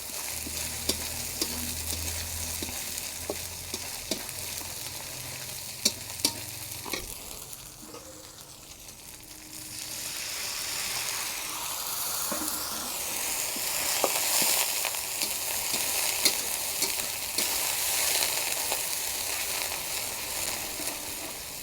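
Bhola (poa) fish bhuna frying in a pan with ginger paste, a spatula stirring and scraping in steady strokes over a continuous close sizzle, with a quieter dip midway before the frying noise swells again; no voices.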